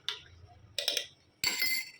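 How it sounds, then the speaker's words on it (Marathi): A spoon clinks against a vessel while turmeric is stirred into water: three bright, separate clinks, close and fairly quiet, with nobody talking. "थोडंसं हळदीला मिक्स करून घेऊ पाण्यामध्ये"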